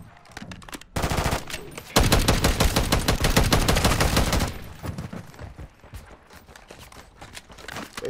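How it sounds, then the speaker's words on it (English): Enemy gunfire erupts in the video game Call of Duty: Modern Warfare III as a dense, loud burst of rapid automatic shots lasting a couple of seconds, then thins into scattered distant pops and rattles. "Bro, they still shooting at us, bro."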